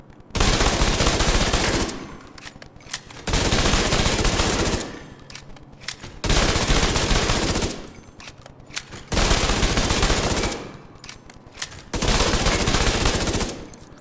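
A Tommy gun fires in Division 2 in five long, loud bursts of rapid automatic fire, each lasting about two seconds and separated by short gaps.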